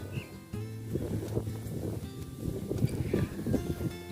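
Cool wind blows outdoors at a white wooden house in a garden near rice fields and mountains, a steady rushing buffet against the microphone that swells and eases throughout.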